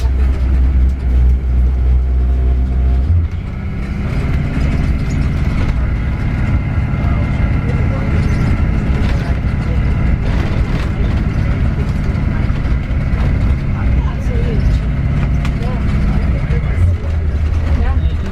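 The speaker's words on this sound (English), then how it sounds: "There's a truck on the ramp there right now." Heavy mining trucks at a Rio Tinto mine rumble up a haul ramp overhead. A deep, constant engine drone fills the whole stretch, loud and unbroken, with talk mixed in over it.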